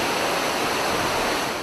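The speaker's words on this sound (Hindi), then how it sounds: "पानी के रेले में बह गई सड़क" Floodwater from a mountain deluge tears down a road as a loud, steady roar of rushing water, continuous and close, with no voices.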